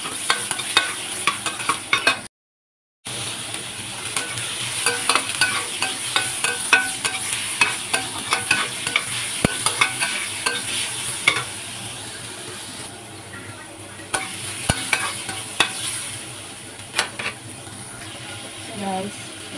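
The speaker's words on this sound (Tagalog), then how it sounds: "igigisa natin ngayon yung sibuyas natin at saka yung garlic" Onions and garlic sauté in a little oil, with a continuous soft sizzle under repeated scraping and stirring clicks of a utensil against the pan; the sound drops out briefly early on.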